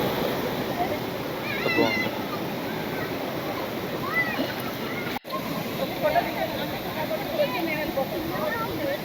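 Water from Vibhuti Falls, a hillside stream flowing clear and cold, rushes in a steady broadband roar close by, while people talk briefly over it.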